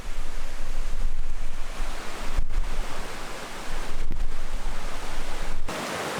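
Loud rushing, sloshing water as a vehicle drives through deep river water above the door bottoms with the exhaust submerged, in Kaeng Krachan, surging and easing in waves with wind buffeting the microphone.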